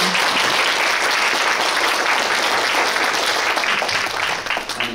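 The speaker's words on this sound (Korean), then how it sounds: "큰 박수 부탁드립니다." A crowd at the 2024 Suncheon Tourism Day award ceremony gives sustained, dense applause that stays loud throughout and eases slightly at the very end.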